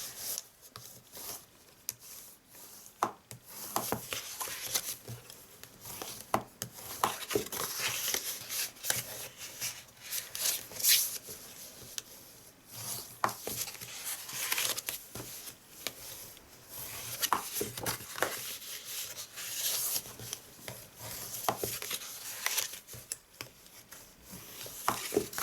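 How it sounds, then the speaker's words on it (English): Bone folder folding and burnishing card, a soft, quiet rubbing and scraping in repeated strokes close by, with light taps between passes and no talk. "So bone folder, we're going to do some folding and burnishing."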